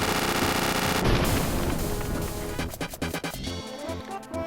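Explosions in the video game Kirby Super Star Ultra, a loud burst of booming blasts followed by a rapid series of crackling, stuttering detonations fading out.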